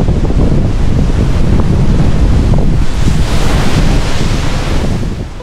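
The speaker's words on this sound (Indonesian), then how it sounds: "ada sering terjadi ombak-ombak besar yang menghantam karang" Big ocean waves crash against coral reef, a loud, continuous roaring surf heavily buffeted by wind noise on the microphone, fading slightly at the end.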